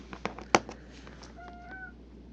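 A house cat gives a single faint, drawn-out meow indoors, following a few sharp knocks and clicks close by.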